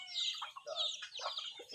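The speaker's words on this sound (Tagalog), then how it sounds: "Mga manok." Chickens clucking at a farm, a quick run of bright, close clucks and squawks that overlap and carry on through the whole moment with no talk.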